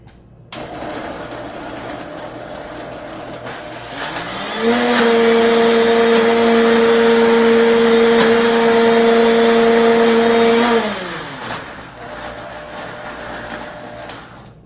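A blender whirs steadily, its motor pitch rising as it spins up, holding a loud droning whine for several seconds before winding down.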